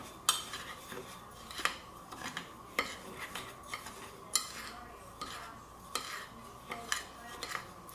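A dry coating mix for fried fish is whisked in a bowl, giving quick, repeated scraping and clinking strokes in an uneven rhythm, close and fairly quiet, with no talking.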